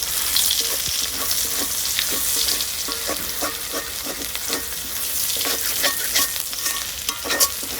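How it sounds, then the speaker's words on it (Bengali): Chopped onions fry in oil in a wok (kadai) with bay leaf for a Bengali country-chicken curry, a steady loud sizzle broken by repeated scraping stirs of a spatula throughout. "পেঁয়াজটা একটু লাল করে ভাজা নিব প্রথমে।"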